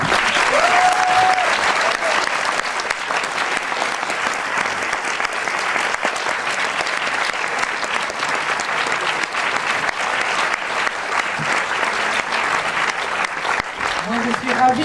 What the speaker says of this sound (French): avant que vous renouveliez vos applaudissements